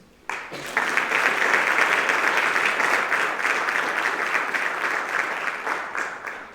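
Audience applause at a high school National Honor Society induction ceremony welcoming new members: the clapping starts abruptly, holds steady and full, then thins slightly toward the end.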